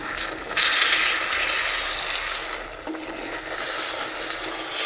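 A spoon scrapes and stirs through egg drop curry gravy in a pan, a steady close-up clatter and sizzle with no talking.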